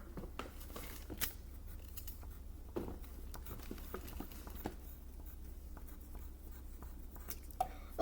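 A pencil scratches softly across origami paper as a tessellation fold is marked, a quiet steady scribbling with scattered light taps and rustles, close and alone under a low hum.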